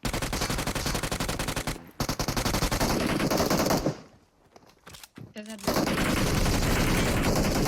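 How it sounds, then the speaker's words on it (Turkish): Automatic gunfire in the mobile battle royale PUBG Mobile rattles in loud, dense bursts, breaks off for a short lull, then resumes with sustained rapid fire. "Bunu vuruyorum hemen."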